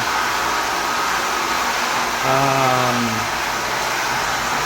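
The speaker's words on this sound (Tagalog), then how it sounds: "Then, ito yung machine. Medyo maingay lang." Water treatment machine with a miscalibrated low pressure switch running in a loud steady hum, with a rising mechanical drone briefly swelling over the noise before it fades back; no one talks.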